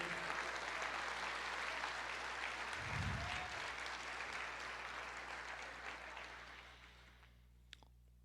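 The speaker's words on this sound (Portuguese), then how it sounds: "Você pode aplaudir o Senhor e dizer: eu creio." Applause from a church congregation during a sermon, a steady wash of clapping from many hands that gradually fades away, with a brief low thump partway through.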